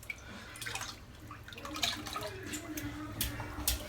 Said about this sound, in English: So let's get it dipped in the water.